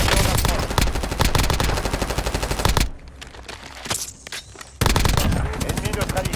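Rapid automatic gunfire in Call of Duty Warzone, dense loud bursts that stop for about two seconds and then resume, with game voice audio mixed in.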